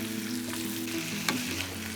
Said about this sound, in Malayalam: ചിക്കൻ ചേർത്ത് കൊടുത്തതിന് ശേഷം ഈ മസാലയും നന്നായിട്ട് ചിക്കൻ നമുക്കൊന്ന് മിക്സ് ചെയ്തെടുക്കാം.